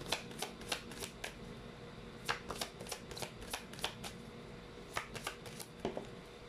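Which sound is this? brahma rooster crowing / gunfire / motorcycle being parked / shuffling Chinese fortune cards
shuffling Chinese fortune cards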